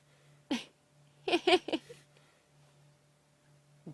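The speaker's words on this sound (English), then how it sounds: "every now and again they inhale the flies and have to have a bit of a sneezing fit" A lioness gives a short sharp sneeze after inhaling flies, then a rapid burst of two or three more sneezes and snorts, close and fairly loud over a quiet background hum.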